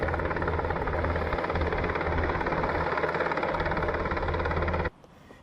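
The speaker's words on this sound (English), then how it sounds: "Search and rescue teams, along with 2 Army Black Hawk helicopters from the Yakima Training Center, scoured the Yakima River." An Army Black Hawk helicopter from the Yakima Training Center flies over the flooded Yakima River, a loud continuous rotor thrum and engine roar that cuts off sharply near the end.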